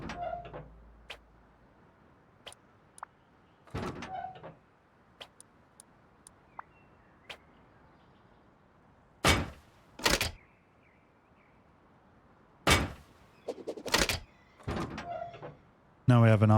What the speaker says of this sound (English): Then we just replace the single doors with armored doors.